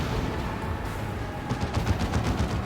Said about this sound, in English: This massive Chem Cannon shot that slows things down.